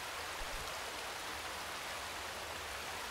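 Continuous rushing water in the climbing video game A Difficult Game About Climbing, a dense even hiss held at steady level throughout, no talk.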